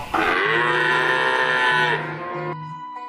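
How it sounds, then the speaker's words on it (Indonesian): A cow gives one long, loud, close moo in a rural village, a drawn-out tonal bellow lasting about two seconds that dips in pitch and tails off, with no talking over it. "Sapi tuh."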